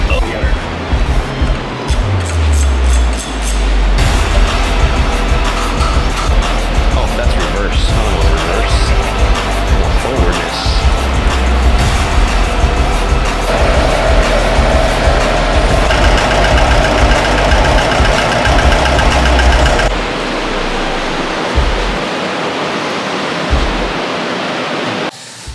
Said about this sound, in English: Oh, I love watching a grinder wheel go like this when you're cutting.